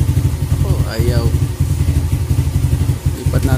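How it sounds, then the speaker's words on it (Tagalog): A motorcycle engine idles steadily and loud for the whole stretch, with a fast even low chug, during a charging-system repair check; a voice talks briefly over it. "Bago natin check, paandarin muna natin yung motor."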